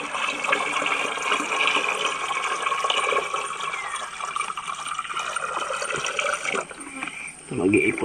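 Water pours steadily into a storage container on a rural farm, a continuous splashing, filling rush close by that runs for several seconds, then thins out as the flow changes near the end.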